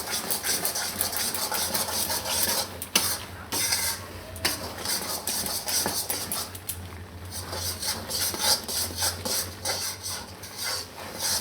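A spoon stirs milk into an adadiya mixture in a pan, making continuous scraping and rubbing with irregular clatters against the pan, near and steady, with no talking.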